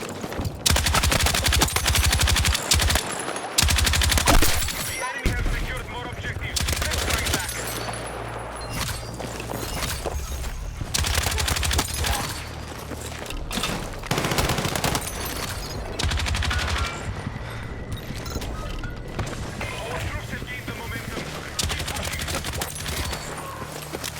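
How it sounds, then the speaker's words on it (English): Light machine gun firing in a shooter video game, loud sustained bursts with dense fusillade-like gunfire running through most of the stretch alongside other game sounds. "especially the LMG, which I will show you a very sick clip of right here"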